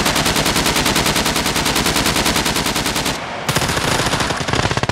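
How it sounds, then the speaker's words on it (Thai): Rapid automatic gunfire from the video game SCUM, shooting at a car: long sustained bursts of closely spaced shots, loud and close, with a brief pause before firing resumes, no voices over it. "ยิงรถให้พังยิงรถให้พัง"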